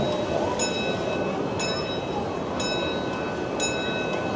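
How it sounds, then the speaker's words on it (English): A miniature train rolls along steadily on a loop inside a shopping mall while a bright bell chimes four times at regular one-second intervals, with faint background murmur. "The train just goes around a loop right over there."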